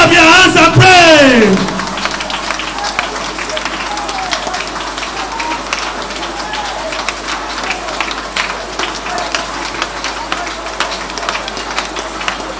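A church congregation claps hands during prayer, a dense, sustained patter of many hands at a steady clip under voices praying aloud, following a loud shout at the very start.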